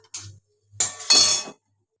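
Dried red chillies are stirred in a pan with a spatula: three short metallic scrapes and clinks, close and sharp, the last one longest, with silence between them.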